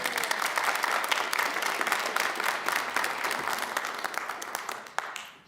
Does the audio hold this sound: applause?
yes